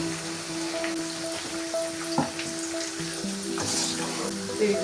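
Onions fry in leftover hilsa fish oil, making a soft, continuous crackle with a few scraping stir sounds and faint clinks close by.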